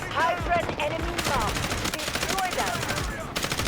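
Enemy gunfire in Delta Force, including sniper fire, rendered as repeated sharp shots and short automatic bursts at close to mid distance amid constant battle noise, with faint voices underneath.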